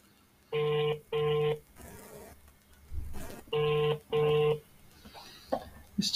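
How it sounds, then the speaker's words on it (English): An unanswered telephone rings out in two double-ring bursts, each pair of bright buzzing tones separated by a pause, with faint rustling and background noise between the rings. "It's just ringing."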